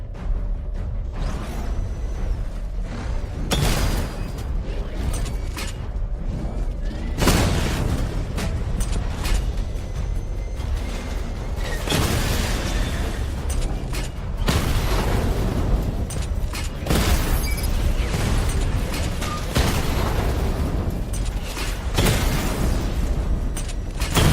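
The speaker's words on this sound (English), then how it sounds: "Charge up missile barrage to level 2 and destroy 4 active targets to complete diagnostic test." Missile barrage from the Batmobile in the video game Batman Arkham Knight, a string of heavy booming explosions and whooshes with mechanical clanks, dense and loud throughout, no talking.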